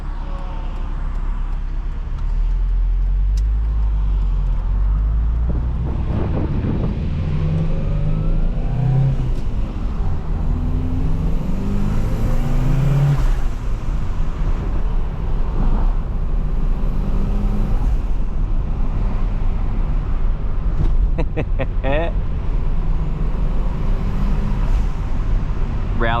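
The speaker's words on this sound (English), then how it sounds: "Rally car noises." A turbocharged 1992 Ford Sierra Sapphire Cosworth rally car engine revs hard and accelerates, loud and steady throughout, with rising and falling tones under road noise and occasional voices.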